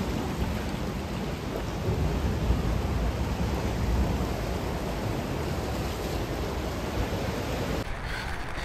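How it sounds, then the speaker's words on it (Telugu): Heavy rain pours down with rumbling thunder in a dense, loud, continuous wash that cuts off abruptly near the end, with no talking. "ఇక్కడ బ్యాక్ వర్షం స్టార్ట్ అయింది"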